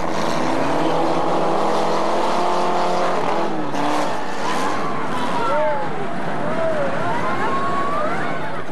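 Cars in a county fair demolition derby rev and whine, with engine tones rising and falling and occasional tire noise, under a voice talking.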